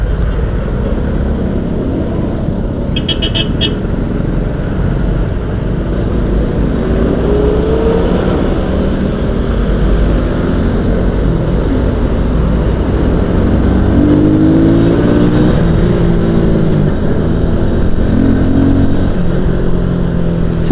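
Motorcycles riding on a road in the Philippines, heard as a steady, continuous engine drone with wind rush and occasional rising revs, loud and close throughout, with no talking.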